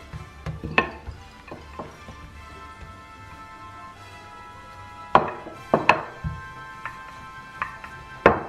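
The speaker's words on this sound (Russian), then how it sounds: "И как хотите, так и нарезайте тесто." A knife cuts through rolled dough on a board in a home kitchen, giving scattered sharp taps, a few close together, then a quiet pause before another cluster of clear cuts.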